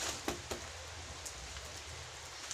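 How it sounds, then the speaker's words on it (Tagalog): Rain falls steadily as a soft, diffuse hiss, with a few brief louder taps and drips standing out early on; no voices. "Umuulan."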